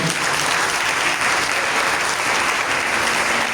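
A church congregation at a Sunday worship service claps in acclaim of the Lord, a dense, steady burst of applause from many hands filling the room throughout.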